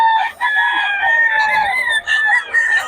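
Roosters and chickens at a Filipino tianggean market crow and call loudly and almost continuously, long sustained crows overlapping one another at close range.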